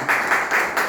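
Audience applause breaking out at a Tamil gathering honouring a leader, a brief steady wash of clapping from many hands.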